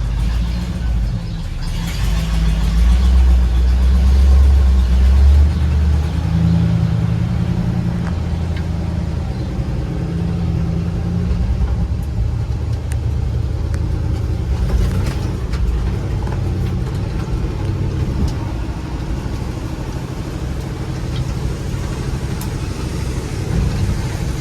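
A John Deere 7720 combine's engine pulls away after being put in gear, a loud, low rumble that swells early and then settles into a steady drone with rattles and clanks.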